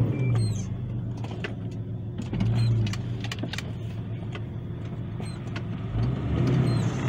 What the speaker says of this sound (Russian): Обороты растут, а он не едет.